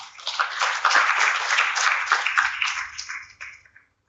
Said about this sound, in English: Let's welcome him with a cheerful round of applause.